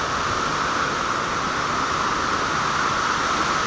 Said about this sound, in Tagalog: dumadagong-dong yung hangin, malakas. Pati ulan, lakas din.